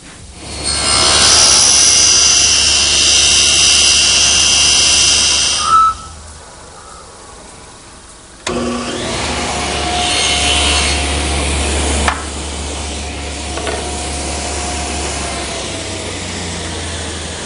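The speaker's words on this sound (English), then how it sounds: "I've just set my saw at a 40-degree angle and ripped this piece of cove through." A table saw with its blade tilted to 40 degrees rips a cove profile through a 1x4 board in a woodshop. A loud, steady cutting whine lasts about six seconds, then quieter motor running and coasting follows.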